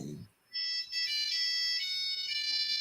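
A phone ringtone plays through a computer, a bright, sustained electronic melody that starts abruptly after a brief pause and rings steadily and loudly to the end.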